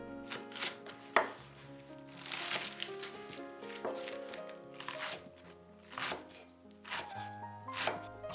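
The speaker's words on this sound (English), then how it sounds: "Mince 100 grams of green onion." A knife mincing green onion on a cutting board makes quick, irregular crisp taps, close and fairly faint, under soft background music, with no talking.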